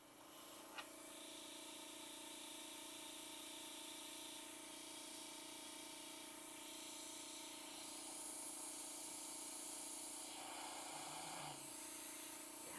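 An airbrush loaded with acrylic paint, fed by an air compressor and spraying too hard, gives a steady close hiss with brief shifts in pitch as bursts start and stop, and no talk over it.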